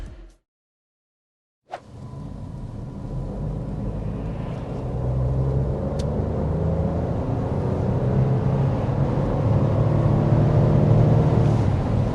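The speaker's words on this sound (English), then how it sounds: "there is an acceleration to 60 miles per hour with the third generation Nissan e-Power hybrid system" A 2027 Nissan Rogue e-Power hybrid SUV's engine and road noise build steadily after a brief silence, a sustained rising drone of acceleration to 60 mph with no talking.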